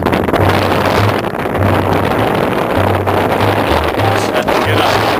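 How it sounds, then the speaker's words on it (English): Heavy wind buffets the microphone on a boat travelling from Oxford towards London in rain, a constant loud roar with gusty low thumps throughout and no clear talk. "Starting to rain now, quite windy."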